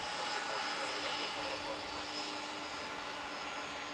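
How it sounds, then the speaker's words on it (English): Boeing 777-300ER airliner, American Airlines flight from London Heathrow, landing at Dallas/Fort Worth airport: a steady, loud broadband jet roar with a faint whine, continuous throughout. "Very smooth landing, very smooth, very butter."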